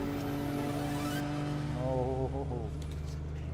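A car is driven hard around a track, its engine note holding steady and rising through gears with a broad continuous drone.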